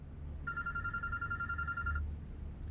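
In the video game Road 96, a telephone rings once in a steady electronic trill lasting about a second and a half, clear and close above a low rumbling background.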